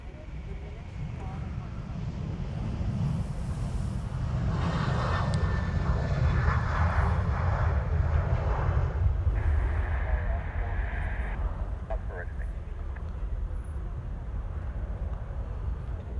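A United airliner departs Honolulu airport bound for Majuro, its engines a broad sustained roar that swells and slowly fades over about sixteen seconds, heard from a distance with light outdoor background.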